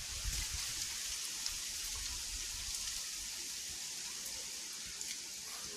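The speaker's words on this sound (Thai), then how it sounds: "ลมฝนมาเลยพี่น้อง" Wind and rain in a forest during a wild boar hunt, a steady hissing downpour with dense patter and gusty noise throughout, continuous and fairly loud with no talking.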